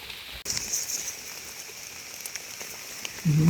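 Rain falls in a forest while mushrooms are being gathered, giving a steady, fine patter and hiss of drops on leaves and ground throughout, with a brief voice near the end.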